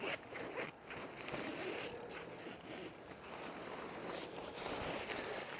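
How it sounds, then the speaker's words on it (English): A fabric zipper on a 13-foot color-changing inflatable Christmas tree is drawn closed in a long, steady rasping pull, close and fairly quiet. "So let's take that out, zip it up."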